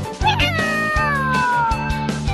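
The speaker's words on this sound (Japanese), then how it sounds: "はぐれちゃったっていう猫なのね。" A cat meowing up close, a series of loud, drawn-out meows with one long falling cry in the middle, repeated several times with short gaps between them.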